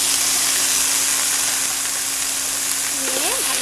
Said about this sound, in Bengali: এরপর কেটে রাখা আলুর টুকরোগুলো দিয়ে দেবো।